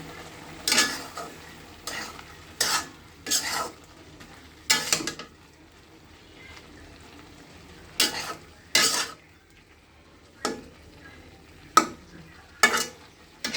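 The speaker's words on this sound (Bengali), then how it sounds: "এবার সবগুলো মশলা একসাথে মিক্স করে নেব" A spoon scrapes and stirs spices into cauliflower frying in a pan, making repeated bursts of scraping with pauses between them over a soft background sizzle, fairly close and with no voices.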